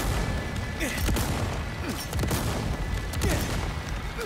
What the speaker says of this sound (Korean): 지금 이거 강화 수류탄인데 강화 수류탄을 원 없이 던지고 있죠.